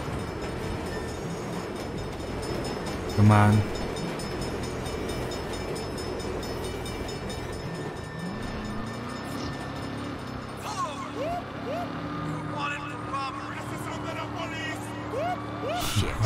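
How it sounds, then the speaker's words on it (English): A train in the Saints Row video game rumbles past in a continuous loud roar that fills the whole stretch, while someone speaks briefly and other game sounds chirp and whistle near the end. "Bad time for a train."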